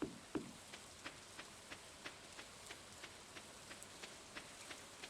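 Soft, steady rain falls in Stardew Valley, a quiet hiss with faint, evenly spaced drip-like ticks throughout and no voices.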